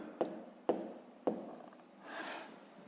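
A pen writes out math calculations by hand in three sharp strokes, followed by a softer rubbing scratch across the paper. Close and quiet, with no voices.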